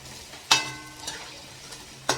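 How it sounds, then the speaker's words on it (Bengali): Onions frying in a pan over medium heat, a soft continuous sizzle broken by a few sharp scraping stirs. "কত সুন্দর লাল লাল করে পেঁয়াজগুলো ভাজা আসছে"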